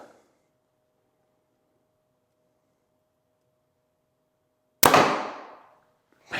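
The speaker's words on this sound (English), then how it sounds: "All right, so you've seen the bow getting shot." A single sharp release of an arrow from a Hoyt Alpha X 30 compound bow, a sudden loud snap and thrum that decays over about a second after several seconds of near silence.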